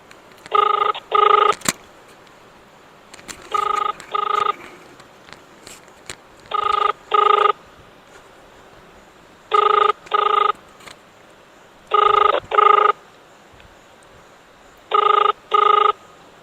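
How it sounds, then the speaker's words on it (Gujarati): An outgoing phone call rings out as a repeating double-pulse ringback tone, six pairs spaced evenly with quiet gaps between them. "તો હવે એને આપણે ફોન લગાડીએ પહેલાં"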